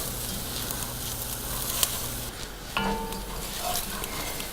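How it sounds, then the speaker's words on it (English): Rice for risotto toasting in a hot pot, a continuous close dry sizzle with scraping stirring strokes pushing the grains around, one sharper clack partway through. "I just keep pushing it around the pot so that it doesn't get scorched"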